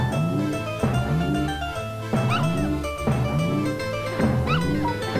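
Dogs barking in the video game Earthworm Jim 2, a series of sharp yips and barks repeating in bursts over game music, loud and close.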